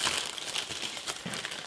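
A plastic bag crinkles and rustles close up as a part for a VW G3 V10 is taken out during an unboxing, with irregular crackling bursts and no talking.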